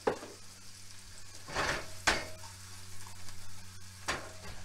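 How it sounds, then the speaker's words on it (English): Onions sizzling quietly in a pan, a soft continuous fry broken by a few sharp clatters of a utensil stirring and scraping, close and fairly faint. "I'm going to basically do is just sort of pre-cook the onions a little"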